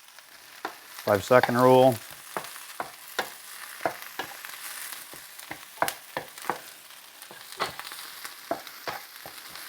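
Breakfast food frying in a pan outdoors in a backyard, stirred a couple of times: steady soft sizzle with scattered scrapes and taps from the utensil, and a short spoken phrase near the start.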